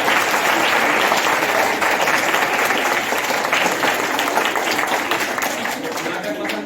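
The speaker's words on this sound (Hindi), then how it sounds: "और सबसे ज्यादा तालियां आप लोग अपने लिए बजाइए, आप बच्चों के लिए।" At a children's drama performance in India, an audience gives loud, sustained applause, a dense, steady roar of clapping that fills the hall and only slightly eases toward the end.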